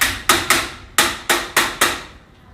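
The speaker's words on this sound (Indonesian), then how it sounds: "Ini kita pukulkan pakai palu" A hammer strikes a sturdy steel push-type corn planting tool (dibber) six times in an uneven rhythm, each blow a sharp, loud, close metallic crack with a short ringing decay, with no talking over it.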